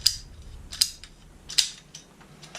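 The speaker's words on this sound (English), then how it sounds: "just to pick up this pipe cutter. So you measure down where you want to cut, and it ratchets down" A ratcheting pipe cutter clicks down onto PVC pipe with three or four sharp, bright ratchet clicks spaced about a second apart. They sound close in quiet surroundings.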